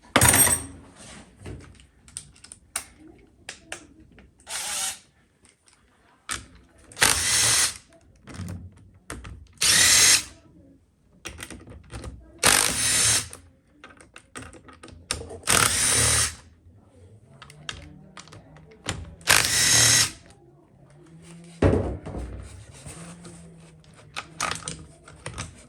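Bursts of clattering and rattling tool work come and go in repeated short loud spells with quiet gaps between them as the rocker shaft is worked off an L200 engine head.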